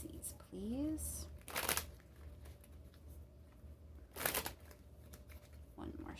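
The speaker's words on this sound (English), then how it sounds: "One more shuffle." Tarot cards being shuffled for a full moon reading, with two sharp bursts of riffling about two and a half seconds apart and a shorter third burst at the end, over a low steady room hum and a brief vocal sound near the start.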